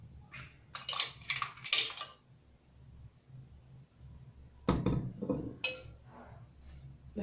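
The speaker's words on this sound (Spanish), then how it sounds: "ahora ya vamos a echar aquí el arroz" Dry rice grains being poured into a pot, heard as two bursts of rattling, clinking patter, one early and one near the end, with quiet stretches between.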